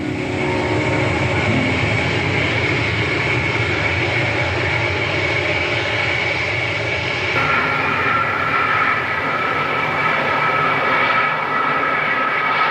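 Prototype aircraft 002 drones continuously in flight, a loud, steady engine roar with a shifting tonal whine and no pauses.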